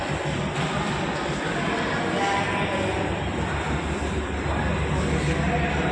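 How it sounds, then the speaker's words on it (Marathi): A steady low rumble of a train idling at Beed railway station fills the scene, with faint background activity and no clear speech. "समोर पाहू शकतात रेल्वे सध्या आलेली आहे"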